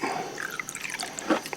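Solvent poured from a container into the exhaust valve ports of an engine head on a 1967 Chevrolet Nova, giving a close, soft trickle and patter of liquid with a few brief drips and splashes.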